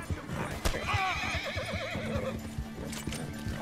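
A horse in the video game Red Dead Redemption 2 whinnies with a wavering neigh, accompanied by clip-clop hoofbeats and game noise, while a voice talks over it.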